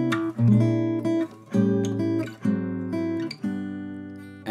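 Piano plays a sequence of reharmonized jazz chords using tritone substitutions, about six full chords struck in steady succession, each ringing briefly before the next, played alone without talking.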